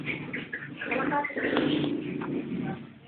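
Pigeons kept for sale coo in soft, repeated calls close by, mixed with background chatter as people talk over them.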